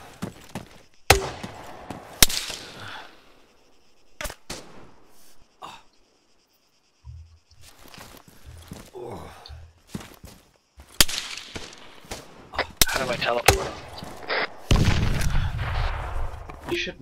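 Sharp gunshots crack in a military shooter firefight, several single shots and bursts spaced irregularly, some close and loud, others more distant, with short breathing or movement noises between them.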